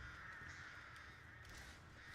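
Crows caw in a video game, a few faint, harsh calls set against a steady hum of background game ambience, with no speech.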